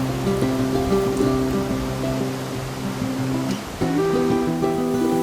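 A river waterfall in Baños, Ecuador, sends up a steady, full rushing roar throughout, with music playing over the water noise.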